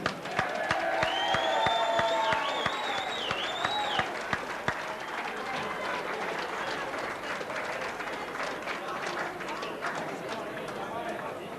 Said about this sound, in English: A big hand for Mr. Ray Gent.